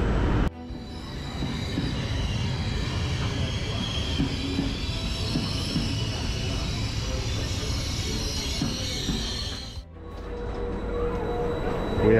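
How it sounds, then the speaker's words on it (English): A train on the Italian Riviera rolls steadily along the rails toward the Cinque Terre, with a dense rumble and faint wheel squeal, continuous and close, briefly dipping near the end before resuming. "on our way to the Cinque Terre on yet another train"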